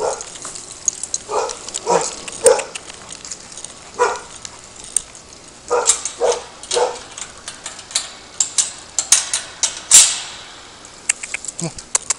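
A dog barks in repeated sharp bursts at close range near a house garage during a police encounter, with scattered clicks and background noise between barks.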